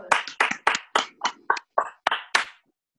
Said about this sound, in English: So can we give a round of applause for Yuri?